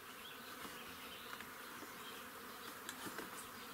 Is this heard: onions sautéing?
no